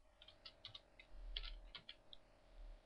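Fingers type a description on a computer keyboard in a quick, uneven run of light key clicks, close and quiet, with nothing else heard.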